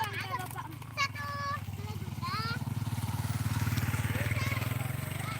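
A motorbike rumbles close by and passes on a street where children practise roller skating, its engine growing louder and steady under chatter and children's voices.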